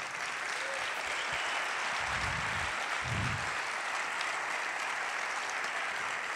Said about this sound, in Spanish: me gustaría pedir un fuerte aplauso, de verdad un fuerte aplauso, tanto a Víctor como a José de Tantam